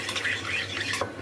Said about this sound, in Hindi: अच्छे से एक बर्तन में मिक्स कर लीजिए और उसके बर्तन में डाल दीजिए।